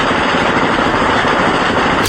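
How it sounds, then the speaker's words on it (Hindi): Gunfire echoing across mountains at the Line of Control, loud and continuous, a dense roll of rapid shots and reverberation filling the clip, ending with a sharper burst. "पहाड़ों पर उठता सफेद धुआं और गोलियों की ये गूंज"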